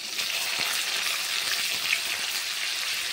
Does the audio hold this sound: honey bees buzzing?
no